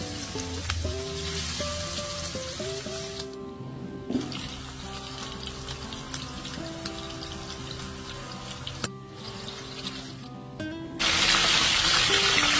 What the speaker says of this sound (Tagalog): Sa ating pagpiprito, mantika lang po.